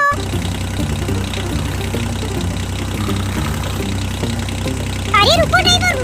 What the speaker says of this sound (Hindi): चलो चलो ड्राइवर अब ट्रैक्टर गाड़ी को लेकर आगे चलो।